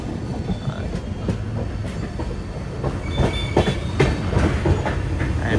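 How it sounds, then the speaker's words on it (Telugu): A train rolls off the Krishna Barrage bridge near Vijayawada, its wheels clattering rhythmically over the rails in a steady mid-distance rumble that swells slightly toward the end. "అండ్ బ్రిడ్జ్ నుంచి బయటికి ఒక ట్రైన్ వస్తుంది"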